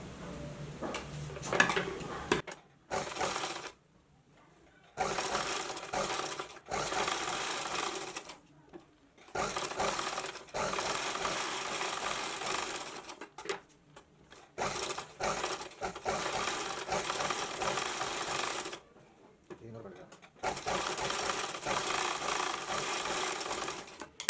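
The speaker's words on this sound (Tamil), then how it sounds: "இந்த கிராச் ஏரியா தைக்க போகிறோம், அதாவது இந்த வளைவு கொடுத்தோம்ல அதை தைக்க போகிறோம்" A sewing machine stitches the curved crotch seam of a patiala churidar pant, running in repeated steady bursts separated by short pauses, close and clear with no talk.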